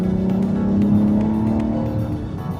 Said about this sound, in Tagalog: let's downshift a bit as we enter this corner